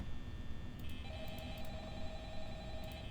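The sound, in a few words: phone call ringing in Five Nights at Freddy's video game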